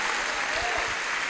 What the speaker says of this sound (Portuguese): Podemos aplaudir a Jesus?